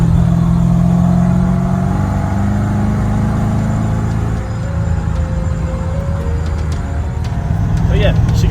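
Supercharged 5.0 Fox-Body Ford Mustang V8 heard loud from inside the cabin, a steady low engine drone with some rev changes and rattles throughout, while people talk over it.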